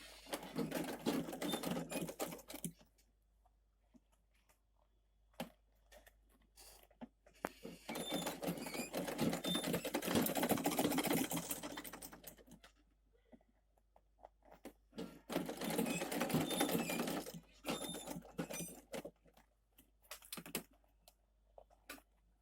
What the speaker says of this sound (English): Continue your sewing.